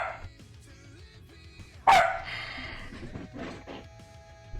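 Several dogs bark in a home setting, a loud sharp burst near the middle followed by scattered yips and barks at moderate distance, with faint background noise throughout.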